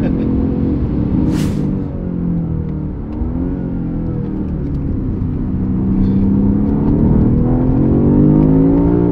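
BMW M5 CS engine heard from inside while driving, a steady mid-pitched drone that rises gradually toward the end, with someone talking over it.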